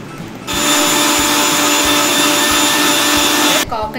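A kitchen mixer roars loudly and steadily for about three seconds as it blends coconut, milk, cardamom, sugar and ice into a coconut punch, then stops abruptly. Brief rattling follows the stop.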